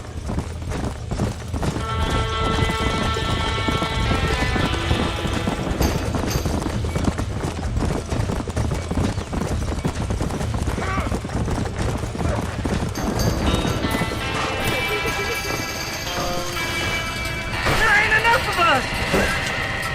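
Rapid hoofbeats clatter steadily in Red Dead Redemption under excited talk about a burning barn, with a horse whinnying and dramatic music swelling over the commotion.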